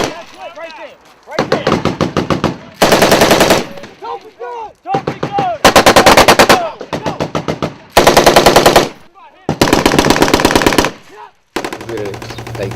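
Combat gunfire with flares and RPG blasts going off: loud, rapid bursts of automatic fire come in repeated volleys separated by short gaps, with voices briefly audible between bursts.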